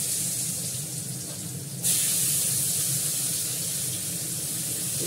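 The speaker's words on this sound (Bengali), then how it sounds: "প্রথমে আলুটা দিয়ে দিলাম," Potatoes go into a pan of hot oil: a soft background hiss jumps suddenly to a louder, steady broadband sizzle that continues close and even to the end, with no voices.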